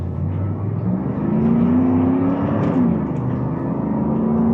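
A 1986 Chevrolet Camaro IROC Z28 pulling away in drive, its engine note rising steadily and loud, heard from inside the car with a continuous rumbling drone and no speech.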